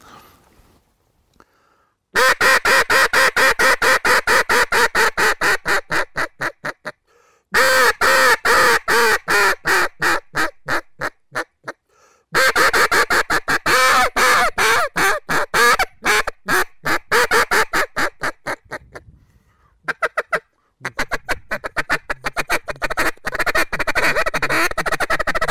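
A hunter's duck call imitates a quacking hen mallard in loud, close runs of rapid, evenly spaced quacks, broken by short pauses and ending in a slower, tapering sequence.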